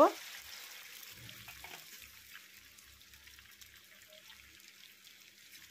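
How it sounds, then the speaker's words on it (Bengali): Chowmein noodles are lowered into hot oil on a gas stove and fried over a medium flame: a loud burst of sizzling that settles into a steady, slowly fading hiss with a few soft low knocks. "তেলটা গরম হয়ে গেছে এখন সেই চাউমিনটা আমি এর মধ্যে দিয়ে দেব"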